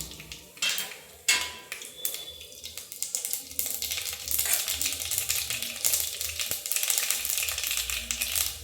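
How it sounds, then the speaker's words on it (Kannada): Mustard seeds and peppercorns hit hot oil while making enne badanekai, starting with a couple of sharp metallic clinks and then settling into a steady, crackling sizzle. "ಇವಾಗ ಸಾಸಿವೆನೂ ಒಂದು 7-8 ಕಾಳು ಮೆಣಸು ಏನು ಎತ್ತಿಟ್ಕೊಂಡಿದ್ನೋ ಅದು ಆಯಿಲಲ್ಲಿ ಹಾಕ್ತಾಯಿದ್ದೀನಿ"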